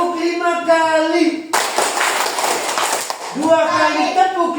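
A class of students claps together in a quick rhythmic burst, a tepuk salut clapping pattern of two then five claps, loud and close, with a voice chanting just before and after.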